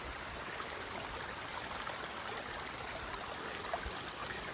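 Rainwater from a municipal outlet flowing along a rural road during rain, a steady broad rushing wash of water with no pauses.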